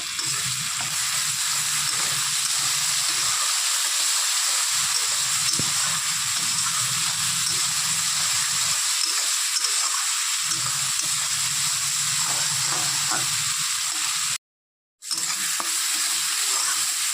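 Ground spices with salt and chili powder frying in a pan, giving a loud, steady hiss and sizzle that runs almost without a break and stops briefly near the end.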